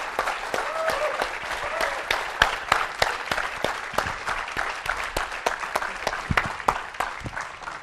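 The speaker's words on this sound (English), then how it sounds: "And let's give them a big round of applause." A crowd applauds interns standing on stage at a Microsoft gathering: a sustained wash of clapping with sharper nearby claps popping out, steady and moderately loud for several seconds.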